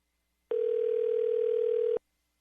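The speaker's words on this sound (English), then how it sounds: "I'm going to call him right now." Steady telephone dial tone heard while placing a call, one continuous loud tone lasting under two seconds, then cut off; no voices.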